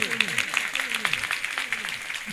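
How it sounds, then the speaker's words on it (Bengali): Crowd at a Durga Puja committee prize giving on an outdoor stage, clapping in a steady mid-level patter while a voice speaks over it through a loudspeaker. "জোরে হাততালি হবে।"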